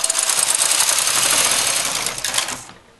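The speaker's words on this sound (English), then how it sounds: "Now, as I do this first row," A knitting machine carriage sweeps across the needle bed knitting a tuck row, making a loud, close, continuous mechanical whirring rattle that fades out at the end.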